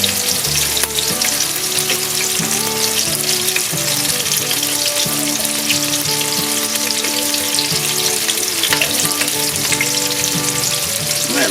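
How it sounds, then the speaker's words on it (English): Pork tenderloin pieces searing in an Instant Pot produce a loud, steady, unbroken frying sizzle that lasts throughout, with no voices. "They're browning up real nicely, so we're going to let them go for just about 2 minutes on each side to just get a nice sear"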